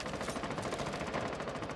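Rapid automatic gunfire from Rainbow Six Siege, a dense unbroken burst of shots ringing close and loud for the whole stretch with no voices over it.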